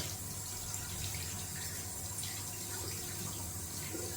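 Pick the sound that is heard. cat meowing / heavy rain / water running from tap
water running from tap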